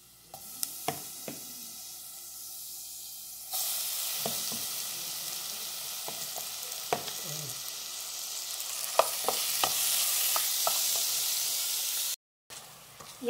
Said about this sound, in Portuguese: a cebola já está começando a dourar e agora eu vou estar acrescentando o peixe aí